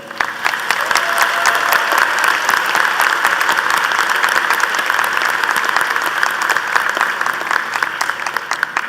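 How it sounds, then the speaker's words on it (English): Sustained, dense applause from a large audience at a university commencement ceremony honoring master's degree graduates, crisp claps at a steady level for several seconds before slowly tapering. "give them one more round of applause"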